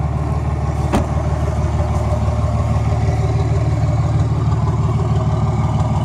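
A car engine runs after a common rail injector rebuild, a steady close idle with a low rhythmic thrum and a faint periodic tick, alone without talk.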